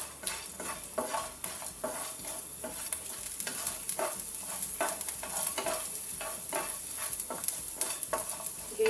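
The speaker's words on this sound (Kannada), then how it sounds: "ಅದನ್ನು ಸಹ ಒಂದು 20 ಸೆಕೆಂಡ್ ನಾವು ಫ್ರೈ ಮಾಡುವ." Ginger and garlic fry with garam masala in a pan for chicken korma, a steady close sizzle under rhythmic scraping strokes of a stirring spoon, with no talking.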